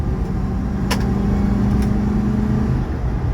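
A 1977 Ford LTD with a 400 engine kicking down into passing gear, a steady loud engine drone with rising road and drivetrain roar heard from inside the car, plus a couple of brief clicks.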